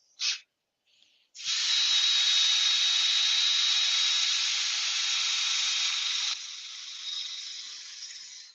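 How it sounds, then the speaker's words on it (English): A hard blast of compressed air cleans sanding dust out of a wooden Christmas sweet bowl, a loud steady hiss lasting several seconds after a short burst, then easing to a lower rush. "Give that a quick blow out so there's no dust in there."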